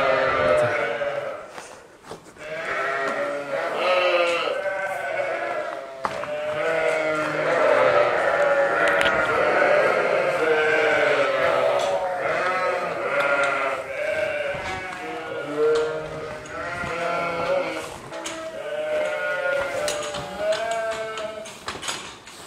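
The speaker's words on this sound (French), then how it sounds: "je vais ouvrir les tapis pour que les brebis mangent." Many sheep (ewes) bleat at once at feeding time on a farm in Lourdios-Ichère in the Pyrénées-Atlantiques, a dense, loud, overlapping chorus that goes on throughout, with faint voices underneath.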